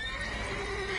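A mare whinnies in The Witcher 3, a short high neigh ringing over a steady low background hum, close and clear.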